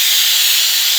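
A pressure cooker cooking dal on a high flame lets out a loud, steady steam whistle, a continuous hiss held for about a second.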